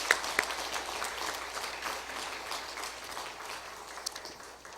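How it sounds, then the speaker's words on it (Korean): A church congregation at a Sunday afternoon service claps together in a steady, moderately distant round of applause that continues evenly and eases slightly toward the close. "우리 순서 맡으신 분들 위해 큰 박수 한번 격려해 주시죠"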